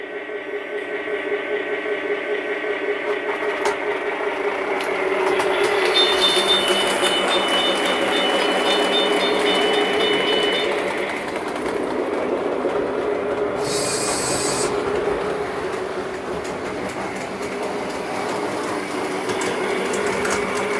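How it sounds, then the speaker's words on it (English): A model train pulling a caboose runs around a layout, making a continuous close mechanical whirring and rattling of wheels on track that swells louder midway and then settles. "let's run it around with the caboose on there"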